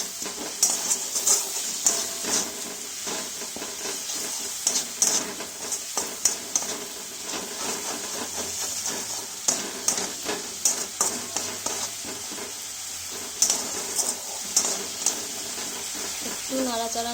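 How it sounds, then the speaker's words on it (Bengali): A spoon stirs beaten sour yogurt into a dish simmering in a pan over a low gas flame, giving a steady sizzle with repeated soft scraping strokes at close range. No one speaks. "একটু নাড়াচাড়া করব।"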